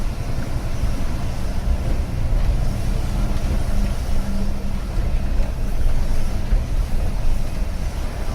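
A shuttle bus drives on uphill out of Dubrovnik, its steady engine rumble and road noise continuous and close throughout, with no talking.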